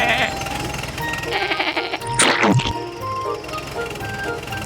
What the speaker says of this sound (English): Bleats Sheep.